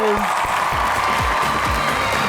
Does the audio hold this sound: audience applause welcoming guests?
yes